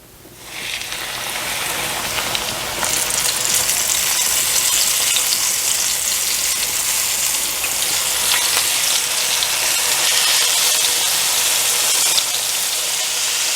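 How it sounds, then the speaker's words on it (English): Liver frying in grease in a pan over medium heat gives a loud, steady sizzle that bursts up as the meat goes in and then holds a continuous crackling hiss. "let it start frying."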